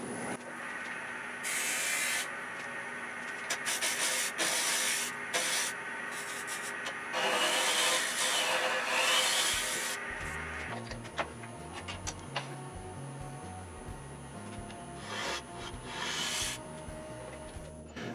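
Steady abrasive whirring and rubbing of a tool cutting into a wooden mason jar lid spinning on a wood lathe, rounding over its edge, continuous and fairly close, with the pitch shifting partway through.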